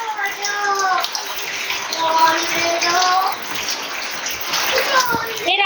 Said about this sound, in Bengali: এখনও বৃষ্টি হচ্ছে